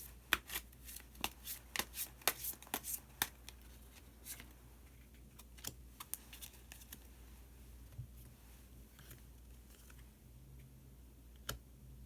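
Tarot cards are shuffled and a hidden card is drawn. A rapid series of crisp card snaps and taps comes first, then quieter scattered flicks and rustles follow in a hushed room.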